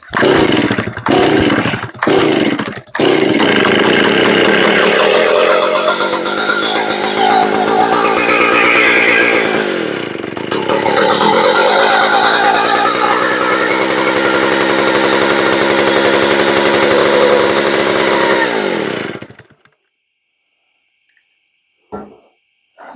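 Stihl 041 chainsaw firing with a few sharp sputtering pops, then catching and running loud and close with a rough buzzing idle and revs for about sixteen seconds before shutting off into near silence.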